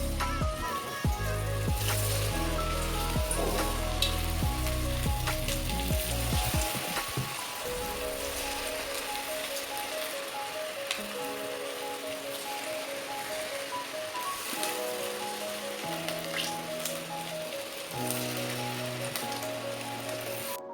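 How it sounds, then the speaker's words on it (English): Baby corn frying in hot oil in a kadhai, a steady crackling sizzle that continues throughout, with a low musical hum underneath. "Now I have heated the oil in a kadhai and I will be frying this."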